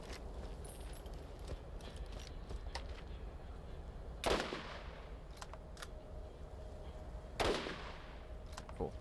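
Pistol fire in Borderlands aimed at enemies. A few sharp shots ring out, the two loudest around the middle and later, above a low, busy game background.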